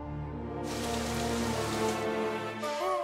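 Steady rain falls throughout, a dense continuous hiss with tonal background music running underneath and no voices.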